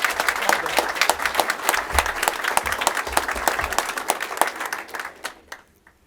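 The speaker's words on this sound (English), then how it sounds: "Thank you for those applause." Audience applause at a city economic development announcement, a steady crowd of hands clapping with distinct individual claps that carries for about five seconds and then fades out.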